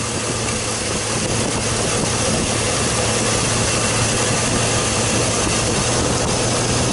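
Chevrolet Silverado engine idling with a misfire, a loud, steady broadband rumble that holds throughout with the revs gradually climbing, no voices over it.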